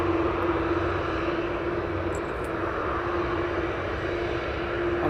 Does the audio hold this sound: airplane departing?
yes